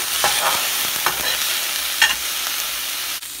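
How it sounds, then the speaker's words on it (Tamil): Carrots, beans, cluster beans and drumsticks sauté in a little oil in a kadai, giving a close, bright hiss with a few quick spatula scrapes and stirs. "இப்போ ஒரு கடாயில் லைட்டாக எண்ணெய் ஊற்றி கேரட் பீன்ஸ் அப்புறம் வந்து கொத்தவரங்காய் முருங்காய் இதெல்லாம் லேசாக வதக்கிக்கோங்க"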